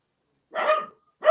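Dogs bark indoors in two sharp, close barks separated by a short silence, loud and clear with no talking over them.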